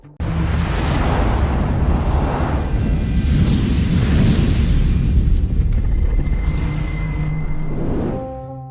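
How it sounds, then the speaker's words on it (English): A nuclear bomb explosion sound effect: a deep, sustained roaring rumble that stays loud and steady for about eight seconds before fading at the end. "What happens if we drop a nuke into the depths of the Mariana Trench for a good and proper kaboom?"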